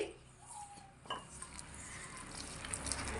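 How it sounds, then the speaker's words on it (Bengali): Egg and flour batter mixed by hand with a little water in a bowl for a fried snack, giving faint, steady wet squishing and stirring with a brief clink, alone without talk. "এইভাবে হাত দিয়ে নেড়ে চেড়ে একটা ব্যাটার তৈরি করে নিতে হবে"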